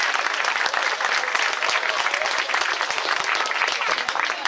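Steady, dense applause from a church congregation at the end of a mass, many hands clapping together at close range and moderately loud for several seconds without letting up.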